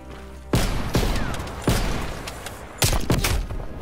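Sniper rifle no-scope shots in a video game: several sharp, loud single shots spaced irregularly, each a hard crack with a short decaying tail, no talking.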